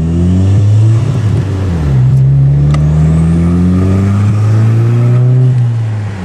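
An Audi with an aftermarket ECS intake pulls hard in second gear, engine note rising in repeated climbs with a brief shift dip and turbo flutter, loud and up close, no voices.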